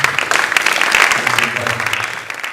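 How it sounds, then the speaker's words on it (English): Applause from a crowd, steady clapping throughout with a murmur of voices underneath, fading slightly toward the end. "give a round of applause to the old man up there"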